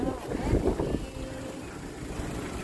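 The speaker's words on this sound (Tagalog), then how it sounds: "Wow. Sobrang hangin." Strong wind in an outdoor park buffeting the microphone in a low rumbling roar, gusting hardest at first and then settling into a steady blustery hiss.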